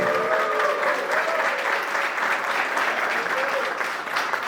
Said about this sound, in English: Please make some noise, clap your hands for Mr. Phil Ellison right now.